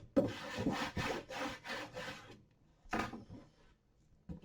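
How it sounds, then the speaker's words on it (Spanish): A bone folder is rubbed firmly along cardboard on a craft box, making a series of close, scratchy back-and-forth strokes in quick rhythm, then a pause and one more short stroke. "vamos a darle bien con el hueso, con cuidado"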